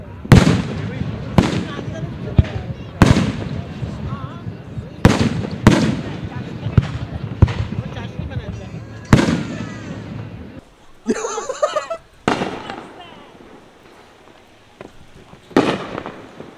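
Fireworks bursting from large launchers, a string of loud sharp booms and crackles at an irregular rhythm outdoors, with voices and laughter between the blasts and a hissing crackle near the end.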